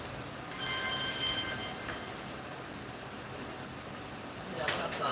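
A telephone rings with a bright, steady electronic tone that sounds for a couple of seconds and then stops, over a continuous room hum during a live stream.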